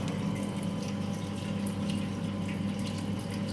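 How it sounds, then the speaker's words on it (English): Water rushes steadily out of a fully opened valve on a pipe friction test rig, a constant loud flowing hiss with no pauses. "We'll get this valve fully open at the beginning to make sure there is no air bubble trapped in there."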